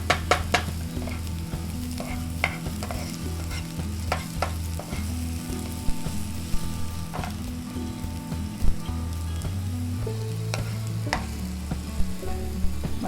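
Kamaru mole crickets and softened tomatoes frying in a pan, a continuous close sizzle broken by repeated scrapes and knocks of a stirring spoon, with no talking.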